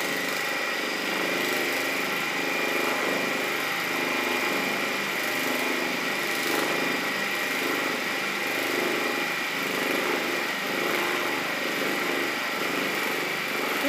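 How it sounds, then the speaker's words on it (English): A Juki sewing machine running at high speed, a steady fast mechanical whir and rapid needle chatter held continuously and up close, with no pauses and no talking. "This is like super speed sewing."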